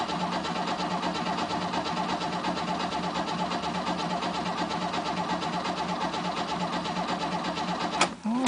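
A 1967 Mercedes engine cold starts with a long steady cranking rhythm, churning close and loud for about eight seconds before a sudden catch and stop, with no talk.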